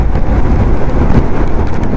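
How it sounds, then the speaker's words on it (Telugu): Sudden heavy rain pours down during a night ride on an old Bullet motorcycle, a dense, steady roar of broadband noise with no voices. "వామ్మో సడన్గా ఎక్కువ వర్షం పడుతుంది"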